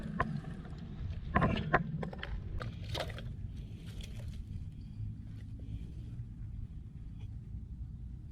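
A small fishing boat rocks on water with low rumbling, faint knocks and splashes, fairly quiet and steady with no talk.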